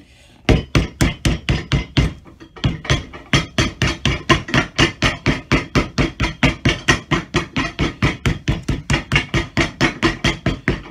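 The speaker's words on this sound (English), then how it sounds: "Little bit of light hammering" Light hammer blows on the leather sole of a cowboy boot during a full sole restoration, a long steady run of sharp close taps at a quick even rhythm with only one short pause, and no talking.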